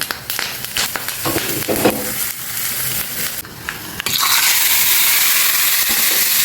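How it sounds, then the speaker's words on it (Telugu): Curry leaves and asafoetida sizzle loudly in hot oil for a tomato rasam tempering, a steady close crackling hiss that swells into a dense, constant frying roar. "ఇప్పుడు మనం ఇందులో ఇంగు వేసుకోండి."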